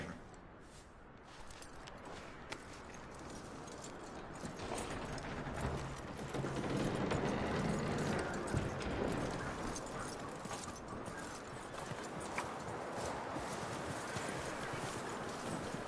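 Steady rhythmic hoof clops of a horse at a walk in the video game Red Dead Redemption 2, faint beneath a dense, noisy wash of background sound.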